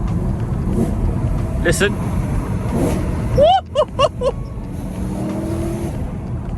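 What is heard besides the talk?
BMW E92 M3 engine on a quick gearbox downshift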